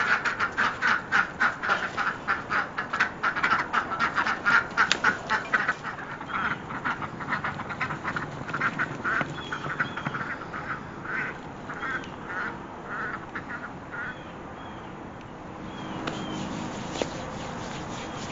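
Ducks quack nearby in quick, rhythmic bursts that are loudest at first, then grow more scattered and quieter, with no voices over them.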